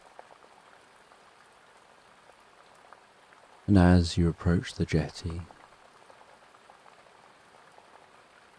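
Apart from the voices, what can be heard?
rain falling on wood and trees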